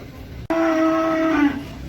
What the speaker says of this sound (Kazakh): Жақсы да сиырлар.